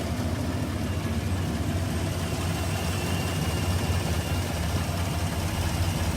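A GMC Denali fitted with American Racing headers and a dual exhaust settles into a steady, deep idle, a continuous low rumble held at an even level throughout.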